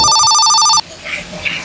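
A telephone rings with a bright, rapid electronic trill for under a second, then cuts off, leaving faint background sound with a brief murmur of voices.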